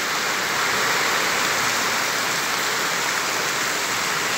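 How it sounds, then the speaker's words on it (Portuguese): Heavy rain pouring on Avenida Evencia Brito, a town avenue in Ribeira do Pombal, Bahia, a steady dense hiss that stays loud and even throughout, with no voices. "E a chuva tá ficando mais forte, viu?"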